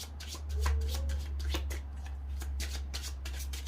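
A deck of oracle cards is shuffled by hand close up, a rapid series of crisp riffling flutters over a low steady hum.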